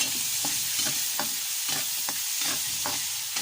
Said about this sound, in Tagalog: kamatis. Haluin natin